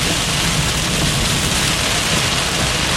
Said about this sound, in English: rain getting heavy again